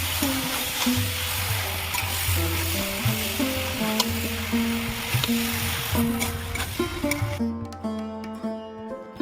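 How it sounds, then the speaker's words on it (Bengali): Mixed vegetables with Malabar spinach stems sauté together in a pan, a steady sizzle with repeated stirring scrapes over a low droning hum, cutting off near the end. "এইভাবে সব সবজি আমি একসাথে কষিয়ে নেবো"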